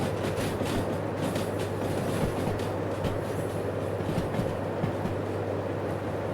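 A locomotive in the video game Derail Valley rumbles steadily along the rails, a continuous loud rolling drone with faint clickety-clack and no talking.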